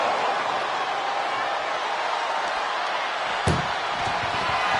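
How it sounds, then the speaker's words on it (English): An ambulance door slams shut during a crowded wrestling match, a single sharp bang rising briefly above the steady, loud roar of the arena crowd. "Look at the struggle just to shut that. One door is shut."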